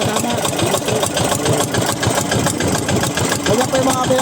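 A new inboard engine on a wooden boat under construction runs steadily, a dense mid-pitched mechanical drone with rapid knocking pulses that holds a constant level throughout, with faint voices blending in toward the end.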